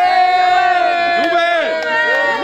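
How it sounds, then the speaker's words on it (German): A medieval-style gathering greeting a visiting clan with a crowd's loud, sustained cheering and whooping voices close by, lasting a couple of seconds. "Jubel!"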